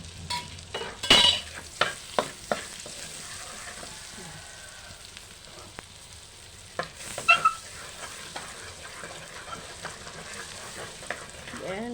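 Butter sizzling in a frying pan while spaghetti and meatballs are cooked, a soft steady crackle with scattered sharp clicks and taps of a utensil, close and fairly quiet, with a voice speaking at moments.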